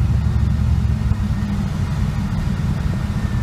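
A 1955 Buick, among California Highway Patrol cruisers, rumbles past at low engine note, a steady close drone with slight swells and no talking.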